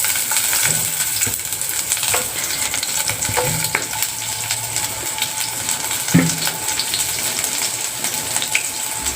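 Dried red chillies and garlic frying in mustard oil in a pan, a loud, continuous close sizzle and spatter with scattered metallic clicks from stirring.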